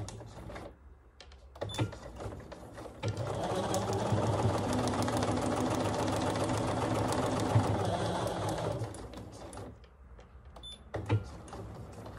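A sewing machine runs a backstitch on quilt block fabric, a steady whirring, rapid stitching that starts, runs continuously for several seconds and stops, with short bursts of stitching around it.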